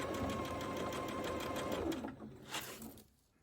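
Sewing machine running steadily while stitching a seam on a Japanese quilt, a close, continuous motor whir for about two seconds, then slowing and stopping in short bursts.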